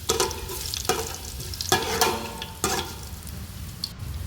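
Crushed garlic stirred into mustard seeds frying in oil for a mixed vegetable curry, with steady loud sizzling broken by a few scraping spoon strokes, close and without speech.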